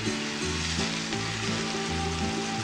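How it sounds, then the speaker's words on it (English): Onions sautéing in a pan for a Greek dish give a steady, close sizzle with light stirring, running continuously over a stepped tonal background melody, with no talking. "I saute them. Just a few minutes."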